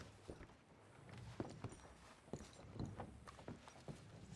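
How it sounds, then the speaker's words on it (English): Horses walk in the video game Red Dead Redemption 2, a quiet, uneven clip-clop of hooves at an easy pace, faint and close by with no talk over it. "I'll go get the horses and then"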